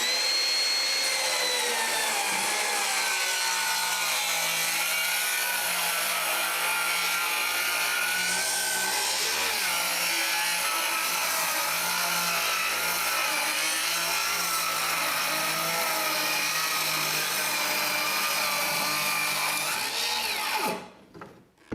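Two cordless rear-handle saws, a DeWalt Flexvolt and a Makita XGT, cut through treated wood with a loud, steady, high-pitched whine that runs continuously for about twenty seconds before stopping abruptly.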